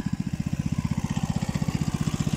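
A small engine powering an irrigation water pump in an onion field runs with a fast, regular pulsing chug, steady and fairly near, with no talk.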